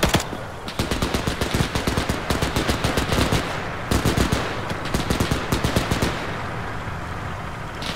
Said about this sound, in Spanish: Ojo, ametralladora